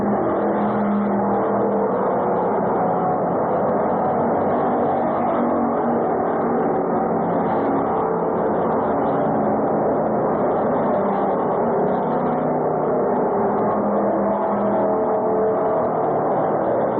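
Enduro race cars, among them a gold Chevy Nova, roar around the Orange County Fair Speedway oval in a steady, loud, unbroken engine drone with no voices.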